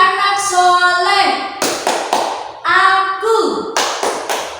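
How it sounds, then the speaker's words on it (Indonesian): Children in a classroom perform the 'tepuk anak soleh' clapping routine, sharp rhythmic hand claps in short bursts alternating with chanted voices. "ayo kita bertepuk anak soleh"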